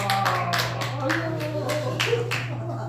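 A church congregation at a Korean Wednesday worship service claps together in a quick, steady rhythm of overlapping hand claps, moderately loud over a constant low electrical hum.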